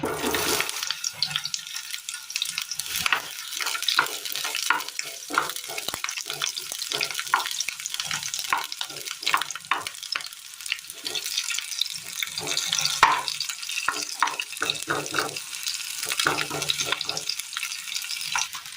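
Sliced onions fry in hot oil in a pan with a dense, continuous crackling sizzle that stays loud and steady throughout, with no break.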